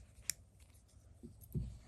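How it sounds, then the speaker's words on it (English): A single quiet snip of scissors trimming crochet yarn, followed by faint soft handling noises in a quiet room. "we're going to take our scissors and trim as necessary"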